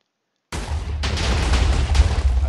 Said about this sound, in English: and you get a massive explosion.